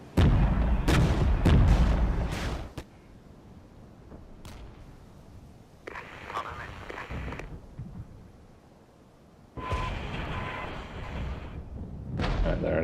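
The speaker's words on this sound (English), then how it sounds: "there it is, artillery DPICM" DPICM artillery fire in the strategy game Regiments: a heavy cluster of loud, deep impacts and blasts up front, then quieter rumbling. Later come further bursts of crackling explosions and a loud closing salvo.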